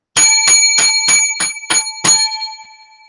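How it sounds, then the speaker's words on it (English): A small bright bell rings seven times in quick, even succession, close and clear with no voices, the last ring left to fade out slowly. "7 lucky bells."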